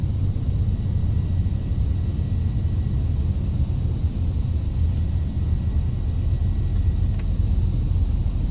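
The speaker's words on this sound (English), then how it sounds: "the aircraft bounces as well. You know, the concrete is never smooth, completely smooth, and it's bouncing around quite realistically" A Black Square Piston Duke twin piston aircraft rolls over concrete in a flight simulator, a steady low engine rumble with faint bumps and rattles from the uneven surface.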